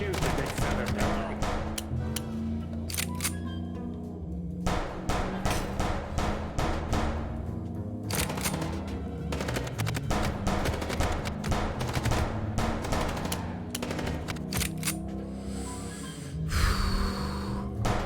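Gunfire crackles in the Chicken Police video game, with rapid bursts of shots mixed with game sounds and voices throughout.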